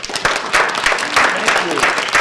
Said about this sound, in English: how about a big round of applause for Mayor Walsh?